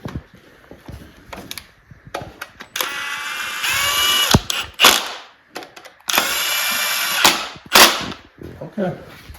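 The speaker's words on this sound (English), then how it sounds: "just torque it down a bit with the impact" An impact wrench snugs down bolts on a 383 small block Chevy engine from a 1964 Chevy II Nova, with loud, close, repeated hammering rattles in short bursts and longer runs, separated by brief pauses.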